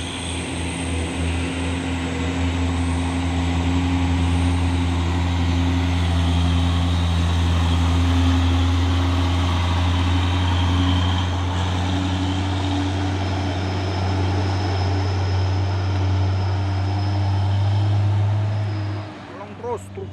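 A heavy 6x4 HD tanker truck hauling crude palm oil rolls along the road, its deep engine drone steady and loud throughout, then dropping away near the end.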